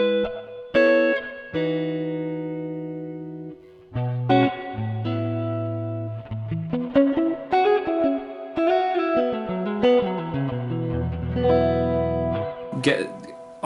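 An electric guitar runs through a reverb pedal set for a surf-style wash: single plucked notes and short phrases ring out, each trailing a long shimmering tail that blurs into the next, loud and alone.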